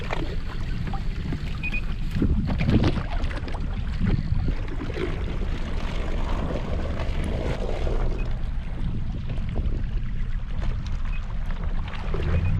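Fishing boat motor driven in pursuit of a hooked fish: a steady, close outboard drone with rushing water and wind noise, continuous throughout with no talking.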